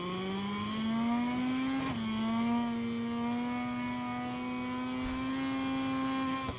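A high-revving racing motorcycle engine in MotoGP 23, heard as a loud sustained whine with pitch that climbs through the gears and briefly drops at a shift or braking before rising again.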